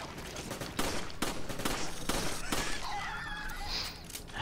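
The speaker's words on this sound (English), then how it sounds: "Sheva, shoot the thing." Rapid gunfire in the Resident Evil 5 video game, a dense run of sharp shots spread across the clip, loud and close, with some shattering crashes and game effects toward the end.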